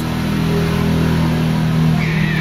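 Road traffic rolls past nearby, a loud, steady engine drone with a rising rev toward the end, continuous and without voices.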